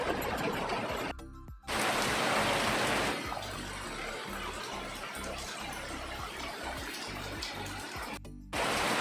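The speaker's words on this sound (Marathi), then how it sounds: "सकाळ छान पाऊस पडता" Rain falls steadily in a Goan home setting as a dense, even hiss of water, loud and continuous, broken by two brief near-silent gaps.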